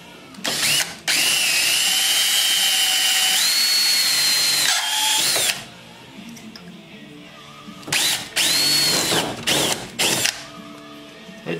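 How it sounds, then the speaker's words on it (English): A power drill runs loud and close in long whining bursts, pitch rising as it bites into a metal rivet on a 2002 Miata, then stops and starts again in shorter spurts. "So I'm gonna try and take a drill again to that and see if I can drill that piece off."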